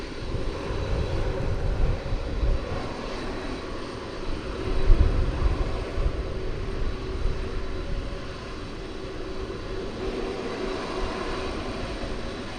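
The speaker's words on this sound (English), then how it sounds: "lots of MD-11s tonight. Yeah, this will be the third one" An MD-11 jet airliner takes off at DFW Airport at night, its engine roar a broad, sustained rumble heard from a distance that swells slightly midway and then holds steady.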